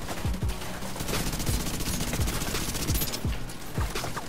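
Rapid gunfire in the video game The Division 2 rattles without a break, loud and close, with heavier single shots cracking out at regular intervals over the continuous bursts.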